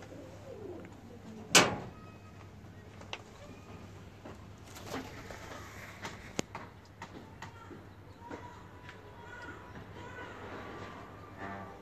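Pet teddy pigeons coo softly at a home breeder's loft, the low calls faint beneath a steady hum and scattered household noises, with one sharp knock early on.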